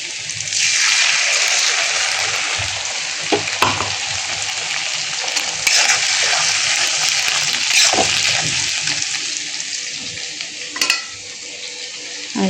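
Spices sizzle with tomato paste in a pan for a Bengali-style chicken curry, a loud, steady frying hiss broken by occasional stirring scrapes and bursts, with no talking.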